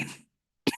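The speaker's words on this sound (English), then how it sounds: "Sorry about my coughing." A single short cough bursts in near the microphone right after a stretch of trailing speech and a brief silence, during an online Q&A discussion session.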